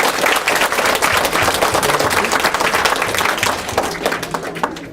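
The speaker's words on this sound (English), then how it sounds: "let's give a round of applause for the council, for the city council, for the mayor's office" Audience applause at a school ceremony for Cornell Academy in Yonkers, honoring the city council and mayor's office: a dense, steady wash of many hands clapping that holds loud throughout and thins slightly near the end.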